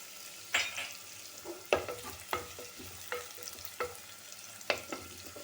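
Onion sautés in hot tempering oil with salt, sizzling softly underneath while a spoon scrapes and stirs the pan in sharp, irregular strokes every second or so, no talking.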